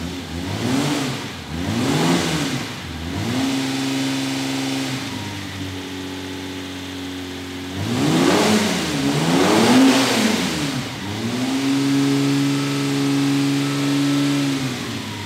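A classic Italian V12 engine, from a Ferrari Daytona or Lamborghini 350GT, is running loudly close by. It revs in repeated rising and falling sweeps, settles to a steady hold between them, and no one speaks over it.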